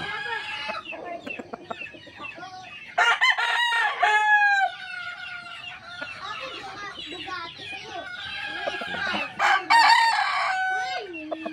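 Roosters crow repeatedly at a cockfighting derby, loud close calls with long drawn-out tails, among clucking fowl and other birds in a busy pen.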